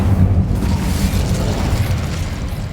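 Incendio fire spell cast in Hogwarts Legacy, a loud, dense roaring whoosh of flame with deep rumbling that holds steady for nearly three seconds.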